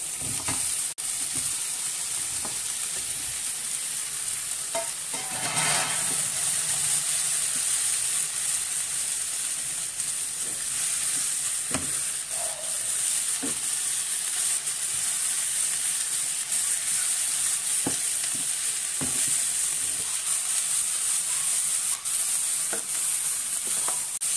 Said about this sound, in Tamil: ஃப்ரை பண்ணி வச்ச காலிஃப்ளவரை இது கூட சேர்த்துக்கலாம்.